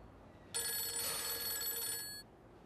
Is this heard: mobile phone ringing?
yes